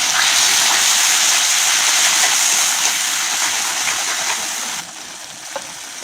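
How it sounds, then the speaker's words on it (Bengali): Hot water poured into a cooking pan of Bengali dudh shukto with cumin, coriander and chili powder, a steady rushing gush that thins and softens near the end. "একটু জল দিয়ে দিলাম"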